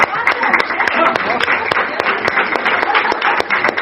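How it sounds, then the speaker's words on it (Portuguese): Applause breaks out from a congregation at a worship service: a dense, lively patter of many hands clapping at once, with a voice speaking over the clapping the whole time. "salve de palmas"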